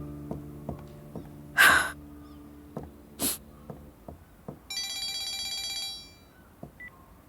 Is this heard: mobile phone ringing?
yes